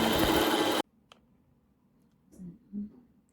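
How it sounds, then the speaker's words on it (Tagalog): A sewing machine motor hums loudly for under a second as the foot pedal is pressed, then cuts out, leaving near silence broken by a faint click and low murmurs. "I press the foot pedal. Tumakbo siya."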